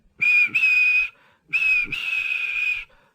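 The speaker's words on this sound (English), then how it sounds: "And he blew his whistle." Two long, steady toy steam locomotive whistle blasts on a wooden railway, with a short gap between them, loud and shrill, with a brief break inside the first blast.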